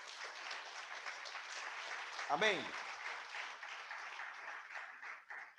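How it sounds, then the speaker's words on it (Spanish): A church congregation applauds during a Spanish-language sermon, producing a steady wash of clapping from many hands at moderate distance, while someone speaks briefly over it. "Otro aplauso, Señor."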